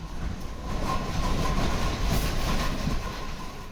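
A two-car light rail train rumbles along the track in Hong Kong, a steady mid-loud roar with faint wheel clatter and a thin tonal whine, continuous without speech.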